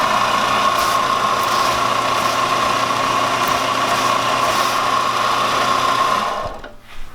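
A belt sander sanding a foam puppet shape runs with a steady, loud mechanical whir and hum, then winds down abruptly near the end.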